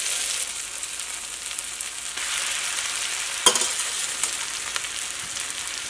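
Broken wheat being stirred into upma frying in a pan, a steady bright sizzle with scraping stir strokes and one sharp clink midway, close and alone.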